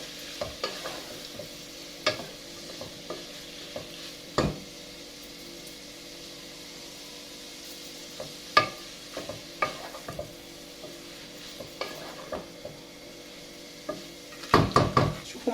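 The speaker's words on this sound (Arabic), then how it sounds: "بس الكبدة تتشوح شوية كده، هنشوحها مع بعض كده" Chicken liver sizzles softly in a pan while a spoon scrapes and taps against the metal in irregular stirring strokes, ending in a quick cluster of clatters.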